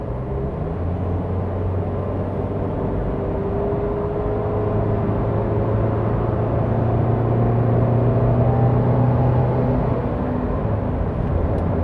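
A car with a 1300cc automatic transmission drones steadily as the gearbox kicks down and the revs climb gradually, with a continuous engine whine building over several seconds.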